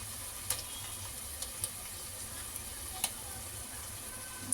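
Ground masala frying in oil gives a steady, faint hiss with a few small ticks and pops scattered through it, close by and without voices.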